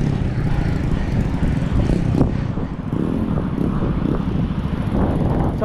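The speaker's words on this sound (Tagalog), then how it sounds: "Kaya ang lakas ng hangin ngayon, no?" Loud, constant low rumble of strong wind buffeting the microphone, roaring steadily with no pauses.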